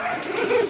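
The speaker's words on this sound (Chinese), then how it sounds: "看，呀，一窝小柴" A litter of young Shiba Inu puppies gives a short, high, thin whimpering squeak, close and alone.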